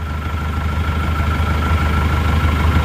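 Isuzu Panther diesel engine idling after a liner repair, a steady loud low rumble with a constant mechanical hum and faint rapid clatter, unchanging throughout and heard up close with no talk.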